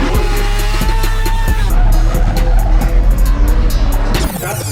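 A truck slides and skids on pavement with loud engine roar and tire noise throughout, close and intense, cutting off abruptly near the end.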